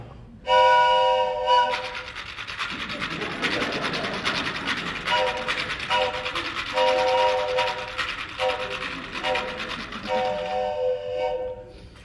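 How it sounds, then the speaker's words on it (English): A train rumbles past a railroad crossing at close range, its horn blaring in repeated long blasts over the rolling clatter of the cars. "we had to wait at a railroad crossing to wait for the train to go by"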